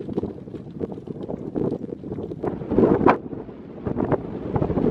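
Steady wind buffeting a microphone in the Sahara desert during a 100 km ultramarathon, a rough continuous rumble with gusts swelling and fading, no voices.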